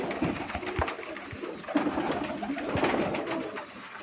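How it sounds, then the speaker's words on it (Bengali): Many pigeons coo together in a crowded loft of a Bangladeshi pigeon keeper, a steady overlapping murmur of soft low calls with occasional wing flutters, fairly close and continuous. "কবুতর আর কবুতর"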